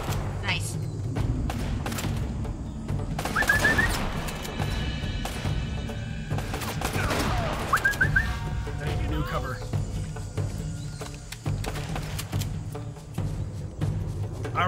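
Shotgun blasts from the video game Uncharted: Drake's Fortune, a couple of loud booming shots ringing out amid game noise, with people talking over much of it.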